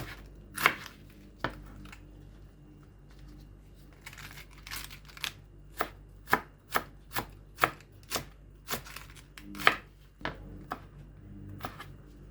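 A knife slices cabbage thinly on a cutting board for coleslaw, crisp chopping thuds in an uneven run of about fifteen strokes, close and clear against a quiet background.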